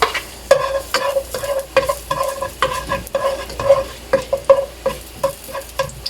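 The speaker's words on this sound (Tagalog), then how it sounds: "Alright, so we're gonna start sauteing na guys. Onion first." Onion sautéing in a pan, a soft sizzle under repeated rhythmic scraping and stirring strokes of a spatula, close and steady with no talking.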